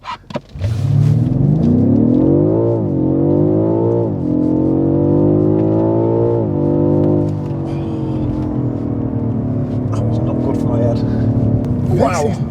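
A BMW F90 M5 Competition accelerates hard through several gears, its engine note rising loud and close in repeated upward sweeps with brief dips at the shifts, a strong rumble running beneath throughout.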